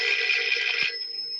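A phone rings with a bright electronic tone, a steady trilling burst that holds near and fairly loud for most of a second, then cuts off to a faint lingering hum.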